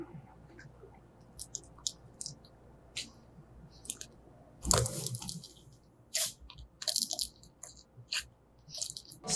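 A hardened wax layer on top of slime cracks with one loud close crunch, followed by squishy, crackly pressing and popping sounds in irregular bursts, with no one talking.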